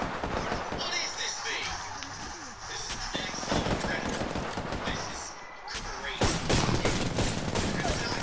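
Gunfire in Apex Legends, with bursts of rapid shots and scattered single cracks at mid distance, layered under excited Spanish-speaking players talking over one another.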